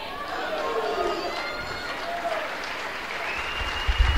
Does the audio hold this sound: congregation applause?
yes